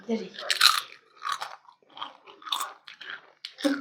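Close crunchy chewing and biting of a fried afternoon snack dipped in sauce, in short bursts with a voice murmuring in between.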